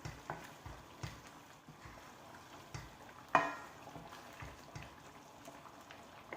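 Cooked tomatoes stir in oil in a pan, a soft sizzle broken by repeated spatula knocks and one sharper clank, fairly quiet and close.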